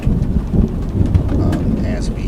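Thunderstorm with a continuous roar of rain and low rumbling thunder, loud and steady throughout, during a storm with tornado warnings in Tennessee counties.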